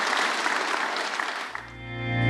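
Congregation applauding at an online church worship service, a dense wash of clapping that carries on for over a second before giving way to sustained organ or keyboard tones.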